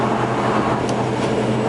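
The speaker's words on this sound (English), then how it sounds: "you can hear those tires running, and that's just part of having the big tires on it." Big oversized tires on a 2007 Ford F250 King Ranch FX4 pickup humming on the road during a drive, a steady loud broadband roar heard from inside the cab.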